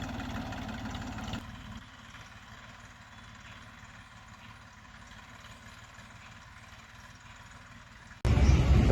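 A tractor engine idles steadily in a farm field, a low continuous rumble that is louder at the start, drops to a quieter drone, then surges loudly near the end, with no talking.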